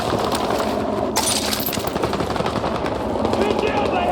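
Heavy automatic machine-gun fire from a Battlefield 6 combat mission roars continuously and loudly, dense bursts overlapping with other gunfire and battlefield noise for the whole stretch.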